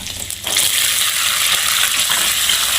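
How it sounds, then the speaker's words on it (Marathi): Green peas tipped into hot oil for a mini samosa filling start a loud, close sizzle that surges after a quiet start and then keeps up a steady hiss with light stirring. "त्यानंतर आपण त्यामध्ये हे हिरवे वाटाणे टाकून घेऊया,"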